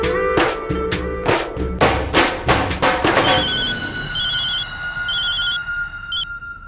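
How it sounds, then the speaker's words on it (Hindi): A telephone rings during a call in a Hindi TV drama, with loud rapid bell-like trills in quick bursts for about three seconds, then a steady electronic ringback tone with faint beeps over quiet room noise. "किशो को कॉल लगाती हूँ।"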